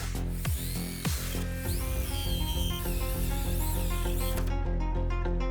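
A large 4.5 inch hole saw cuts into a pinball cabinet, a loud steady whining drill with two brief dips early on before the power tool runs continuously, then stops near the end.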